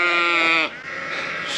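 A sheep on a farm lets out one loud, close, wavering bleat that breaks off abruptly, leaving a faint airy outdoor background.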